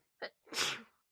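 A single person sneezes once, a short sharp intake followed by a loud burst, close and alone with no talk.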